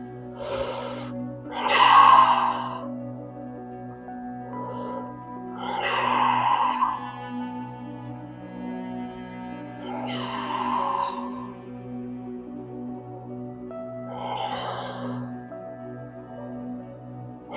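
Deep breathing during a yoga hip opener, slow rhythmic breaths repeating every few seconds, close and soft over quiet background music.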